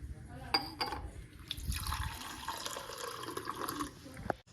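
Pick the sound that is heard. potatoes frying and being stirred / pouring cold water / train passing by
pouring cold water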